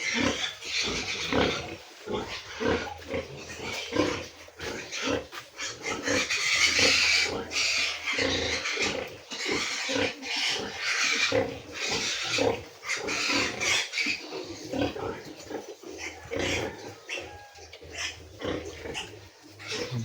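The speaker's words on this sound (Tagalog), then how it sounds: "Marami pang baboy ng mama ko dito tol." Pigs on a farm grunt and squeal continuously in a busy, fairly close chorus, with irregular bursts of oinking and shuffling and little else mixed in.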